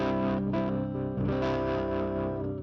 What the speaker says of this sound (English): try find a preset of a clean guitar